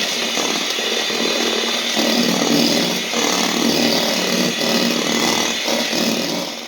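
Electric beater whisks sugar and oil together for a vanilla sponge cake batter, a steady high buzzing whir held close and even throughout with no voices.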